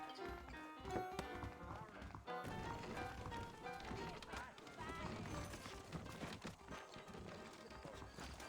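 In Red Dead Redemption, saddled horses make hoof clip-clops and movement sounds beneath someone talking, over a busy bed of game ambience and music.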